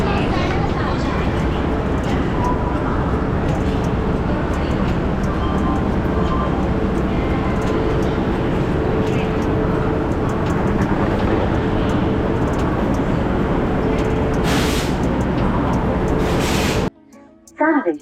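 A train pulling into Haridwar railway station, a loud continuous rumble and clatter of wheels and carriages lasting throughout, with voices faintly mixed in, ending abruptly near the close.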